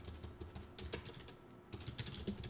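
Keys clatter on a computer keyboard as a title is typed into an Excel spreadsheet, a quick steady run of soft close taps with no talking.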